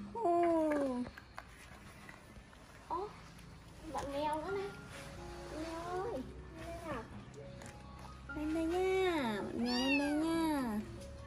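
A kitten meows repeatedly in a home, its high rising-and-falling cries coming in several bursts, some clustered, while someone speaks in Vietnamese between and over them.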